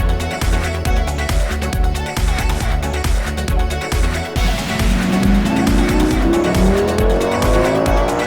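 A Lamborghini Gallardo drives hard, its engine loud and close with rapid revving, rising pitch sweeps as it accelerates through gears, and some tire noise.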